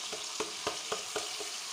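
Ground onion, tomato, green chilli, ginger and yogurt gravy tipped into chicken frying in a pan for korma, giving a steady sizzle with a few sharp stirring or scraping hits in a soft, even rhythm.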